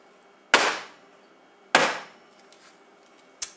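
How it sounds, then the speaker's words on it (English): A cookie sheet of melted chocolate is tapped down on a counter to flatten it: two sharp, loud knocks about a second apart, then a lighter third tap, alone without talk. "what I like usually doing is tapping down the cookie sheet so that it flattens the chocolate as much as possible"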